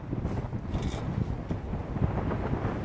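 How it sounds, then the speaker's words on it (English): Strong, gusty wind blows over a lake during a blizzard, a constant low roaring rush of buffeting wind noise with no voices. "It is so windy out here."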